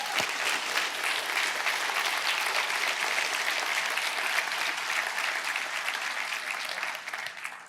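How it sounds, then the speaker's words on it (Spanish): A church congregation applauds in praise of God, a sustained, dense clapping from many people heard from a little distance, fairly quiet and even, tapering slightly at the end. "Dale un aplauso a Dios bendito."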